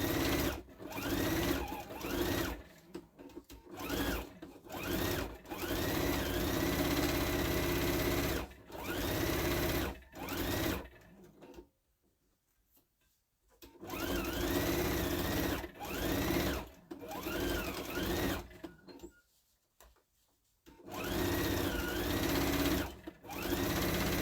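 Sewing an eighth-inch seam around a scalloped bag, a sewing machine whirs in repeated bursts of fast stitching broken by short stops and two longer silent pauses, close and clear.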